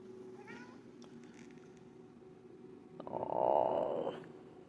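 A cat gives a short, rising meow early on, then a louder, breathier meow-like call follows near the end over a low steady hum.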